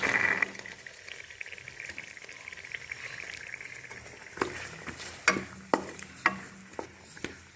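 Carrots and peas for vegetable biryani hit hot oil with a brief sizzle, then fade to a gentle fry, with a run of sharp spoon-against-pan knocks and scrapes as they are stirred nearby.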